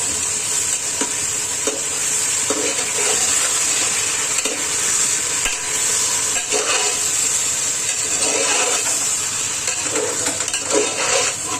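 Mutton for a home-style biryani is stirred and fried in a pan, giving a steady, loud sizzle with repeated scraping stir strokes throughout.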